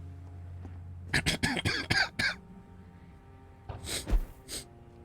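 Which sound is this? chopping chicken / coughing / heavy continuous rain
coughing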